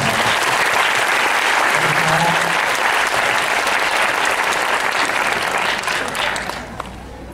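Audience applause at a Thai ceremony where a royal princess receives a donation for a hospital foundation, steady dense clapping that holds evenly, with a brief voice beneath, then thins out at the close.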